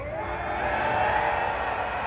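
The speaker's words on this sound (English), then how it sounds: "Do you hear people booing at Kunimitsu?" A large crowd at the Combo Breaker fighting game tournament booing and cheering together, a dense and continuous wall of voices that swells a little near the middle.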